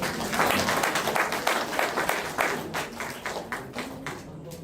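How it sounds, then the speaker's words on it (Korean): A Korean lecture audience gives a round of thanks, many hands clapping in a sustained, moderately loud patter that gradually fades away. "양성모 원장님께 큰 감사의 박수를 부탁드립니다"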